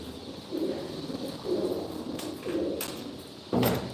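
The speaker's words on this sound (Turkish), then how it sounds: "Burada da uçum yerindeki kuşları getirdim." Pigeons brought from the loft coo in a steady series of soft low phrases, several repeated calls close by over a quiet outdoor background, with a few brief knocks near the end.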